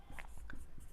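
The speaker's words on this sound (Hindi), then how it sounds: "तो लिखेंगे" Pen or chalk scratching briefly on a board or paper during a Hindi maths lesson on rational and irrational numbers, a short dry stroke heard alone at close range.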